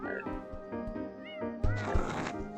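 A cat meows in the video game Go Up Frog, with a few short mewing calls over steady game music and a louder, drawn-out cry near the end.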